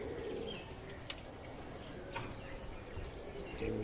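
A male Mili racer pigeon coos softly at close range, its low murmuring calls repeating over steady background noise, with a few sharper clicks and chirps mixed in.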